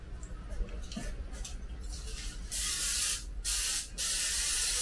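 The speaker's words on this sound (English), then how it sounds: "spraying my pan." Two bursts of aerosol cooking spray coating a muffin pan, steady close hissing with a short gap between, over faint room background.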